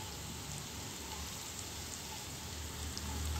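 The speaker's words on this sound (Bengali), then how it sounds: "এবার আস্তে আস্তে ভাজা হোক" Fish-oil fritters frying slowly in a pan over low heat, giving a faint, even, rain-like hiss that stays steady throughout.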